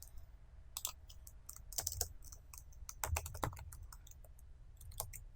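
Keys clatter on a computer keyboard while code is entered in an editor, bursts of quick clicks arriving in uneven clusters, fairly close and alone with no voice.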